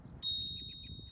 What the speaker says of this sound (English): An additional safety feature on our e-bikes is the bell to let yourself be known and heard by others around you.